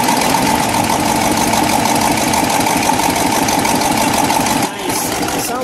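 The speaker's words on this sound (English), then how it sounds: "Sounds like there's a little exhaust leak" The engine of a 1959 Dodge Sierra Custom station wagon with a small exhaust leak idles loudly and close by with a steady, uneven puttering rumble, and a slight dip in sound near the end.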